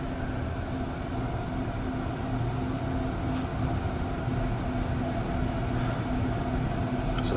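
Two-car REM light rail train idling at a platform, a steady close hum of motors and ventilation with tonal whine lines and faint squeaks, continuous and unchanging.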